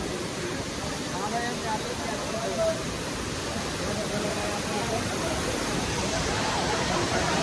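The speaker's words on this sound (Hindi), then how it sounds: "फाइनली हम पहुंच चुके हैं कैप्टी वाटरफॉल पर" Kempty Falls in Mussoorie pouring down, a dense steady roar of falling water, loud and continuous, with faint crowd murmur mixed in.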